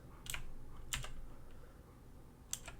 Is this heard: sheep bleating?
no